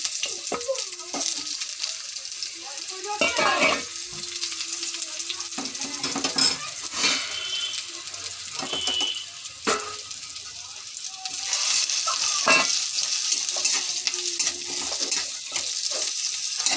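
Mango pieces fry in a pan with mustard seeds and dried red chillies, giving a steady soft hiss broken by scattered clinks and scrapes of a utensil, fairly quiet and close.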